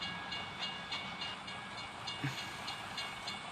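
A train rumbles past in a coach bus simulator video game, a steady rolling wash of noise with faint rhythmic clatter and no talk over it.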